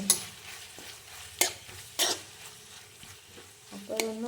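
Biryani masala sautéing in a pan for chicken biryani, with a steady sizzle and a few sharp scrapes and clanks of a spoon stirring against the pan, close and fairly loud, ending with a short burst of voice.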